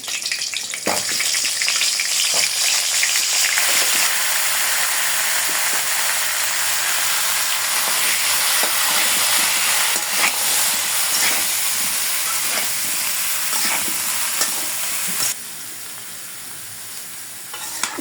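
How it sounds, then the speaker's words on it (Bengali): Cauliflower florets frying in hot oil in a kadai, a dense steady sizzle with scattered pops and stirring clatter, close and loud, easing down near the end; no one speaks. "ফুলকপি এবং আলুগুলো আমি ভাজি করে নেব"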